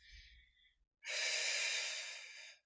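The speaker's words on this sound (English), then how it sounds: "We're going to take 3 more of these deep breaths" Deep, drawn-out breathing during a hotel-room functional exercise flow: a soft inhale, a short pause, then a long, loud exhale lasting over a second, close to the mic.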